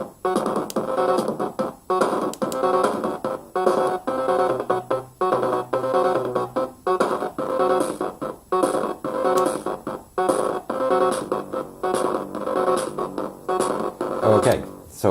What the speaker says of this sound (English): Okay, so we've changed our drum kit there.